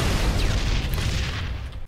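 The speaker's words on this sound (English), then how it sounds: "Fuel rod cannon! Fuel rod cannon!" Heavy booming blasts and rumbling from a fuel rod cannon in Halo 3, dense and loud throughout, with a sudden final thump.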